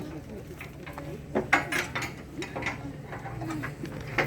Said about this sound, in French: le collègue qui est avec une clé à cloche, comme on l'appelle chez nous, va commencer à serrer manuellement chaque boulon du matériel d'attache